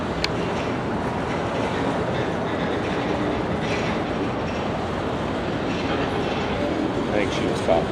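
A Union Pacific freight train rolls through Denver North Yard with a continuous rumbling roar of cars on rails and faint squeals near the end, while people talk quietly underneath.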